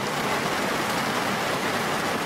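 Heavy storm rain pours steadily and loudly, a dense, unbroken hiss of falling water with no pauses or other sounds.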